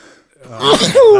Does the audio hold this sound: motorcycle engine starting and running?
no